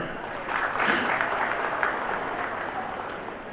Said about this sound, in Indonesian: Tepuk tangan dulu buat beliau.